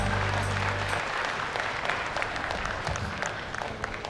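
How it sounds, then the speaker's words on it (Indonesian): An audience claps at a family empowerment declaration event in Tegal Regency, a dense continuous burst of applause filling the hall, fairly loud and steady, slowly tapering toward the end. "Kita beri tepuk tangan yang meriah."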